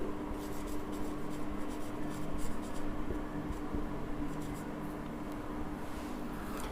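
Pen scratching steadily across paper while working a vector exercise in a class 12 maths lesson, a soft continuous scrawl close by over a faint room hum.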